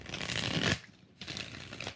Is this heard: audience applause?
no